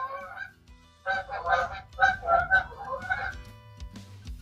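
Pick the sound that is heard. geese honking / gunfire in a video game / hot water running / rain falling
geese honking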